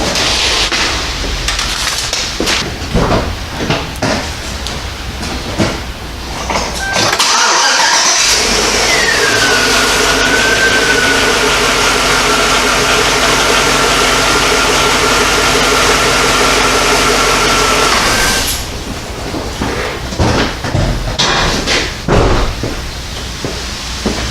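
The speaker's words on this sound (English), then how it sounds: "Now this truck starts beautifully, and I'm gonna show you." A pickup truck's rebuilt engine turns over and fires after a short crank, revs up, then drops to a steady loud idle for about ten seconds before cutting off, with quieter background noise before and after.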